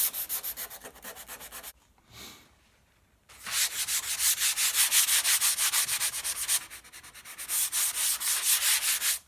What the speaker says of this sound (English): all I'm going to do now is just hit that with the sandpaper a little bit